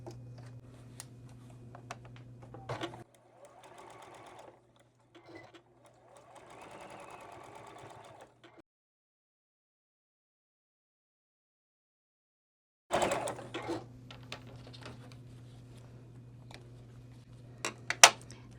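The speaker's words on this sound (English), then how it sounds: "I'm just going to chain sew all of these together, and I'll have 12 little blocks of 4." A sewing machine chain-sews quilt blocks made from fabric scraps, running in steady humming stretches with brief stops, a long silent gap, then another run with clicks and handling noises, up close.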